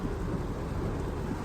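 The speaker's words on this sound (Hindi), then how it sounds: "ये देखो भाई बारिश बहुत तेज़ है, मतलब नॉन स्टॉप हो रही है" Heavy nonstop rain pours during a family car's flood drive on a highway, a dense, loud and unbroken roar with low rumbling that could be thunder, and no voices.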